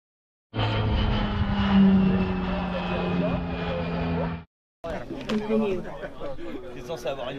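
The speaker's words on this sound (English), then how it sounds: "I think it could be planes approaching, planes landing, stop, hey, plane landing." A plane approaches and lands at an F3K glider world championship field in Jakabszallas, a loud sustained engine drone that stops abruptly and is followed by outdoor chatter and voices.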